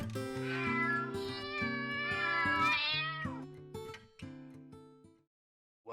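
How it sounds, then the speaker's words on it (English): Several kitten meows ring out one after another, loud and close, with drawn-out, wavering cries in a busy run before trailing off into silence. "Let us introduce the kitten that's right for you."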